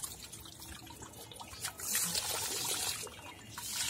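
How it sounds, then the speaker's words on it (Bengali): Cold water poured onto garden plants such as hibiscus and rose, a steady trickle and splash that swells louder midway and holds through to the end, with no talk. "ঠান্ডা জল, গাছে জল দিয়ে দিচ্ছে"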